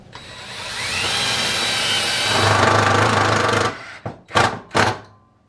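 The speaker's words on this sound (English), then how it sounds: "you're going to want to run a screw right through the middle of that" A power drill drives a screw through the middle of a wooden roller handle for a homemade roller cotton gin: a steady, loud whirring grind for several seconds, then two or three short, sharp bursts as it finishes.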